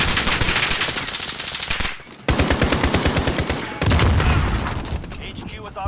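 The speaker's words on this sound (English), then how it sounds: "Where is he shooting me from?" Rapid automatic gunfire from a video game shooter, loud and continuous, in dense bursts with short gaps and a fresh burst near the end.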